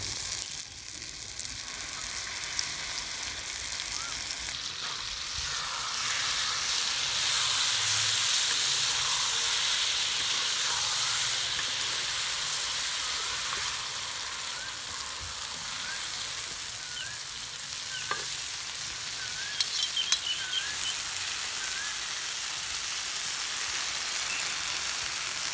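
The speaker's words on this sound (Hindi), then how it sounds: "अब इसी तरह थोड़ी थोड़ी देर तक हिलाते जाएंगे और दरमियानी आग पर कलेजी को पकाते जाएंगे" Marinated liver (kaleji) frying in masala on a tawa over medium heat: a loud, steady sizzle and hiss throughout, with occasional pops and crackles, close up and without talk.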